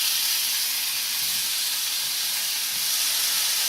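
A seasoned cod fillet sizzles in a hot pan, a steady, loud, unbroken hiss with no talking.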